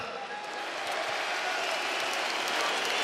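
An arena crowd at a UFC 284 event applauds for Islam Makhachev, a broad, even wash of distant clapping and cheering that holds steady without pause, fairly faint overall.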